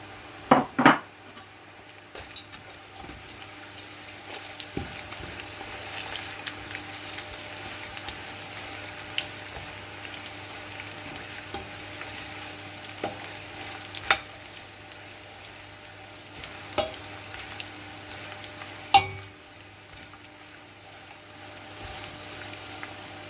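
Star anise, white cumin and other whole spices hit a hot pot, giving a soft low sizzle under scattered metallic clinks of a spoon against the pan, with no talk.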